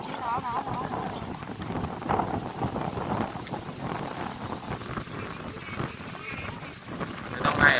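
Strong wind gusting at a reservoir by Pa Sak dam in Thailand, roaring steadily into the microphone with broadband buffeting throughout, while people talk loudly over it.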